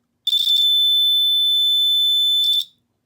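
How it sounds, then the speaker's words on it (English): The piezo buzzer of a breadboard circuit tester sounds one loud, steady, high-pitched electronic tone lasting about two seconds, clear and alone with faint clicks at the start and finish. "the green LED lights up and the buzzer sounds off"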